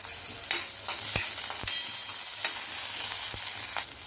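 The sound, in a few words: garlic cloves and green chillies frying in oil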